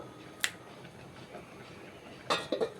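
A metal lid is set down on a cooking pan of ridge gourd and pomfret in gravy: one short sharp clink, then a quiet pause, then a cluster of three quick light clanks near the end, fairly soft against faint kitchen background.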